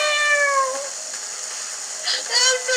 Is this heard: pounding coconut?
no